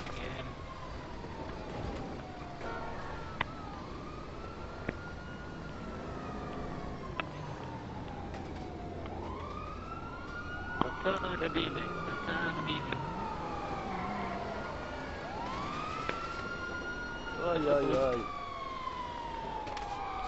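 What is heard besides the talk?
police siren in a video game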